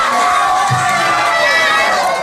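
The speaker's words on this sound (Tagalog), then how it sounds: "may kasabay na sigawan ang bawat suntok ni Pacman" A crowd watching the Pacquiao–Broner boxing match in General Santos City shouts and cheers loudly, a dense roar of mixed voices with excited yells rising over a constant murmur.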